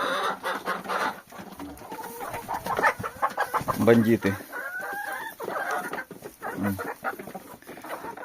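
Hens cluck and chatter nearby, with short calls and squawks overlapping a person speaking briefly in the background.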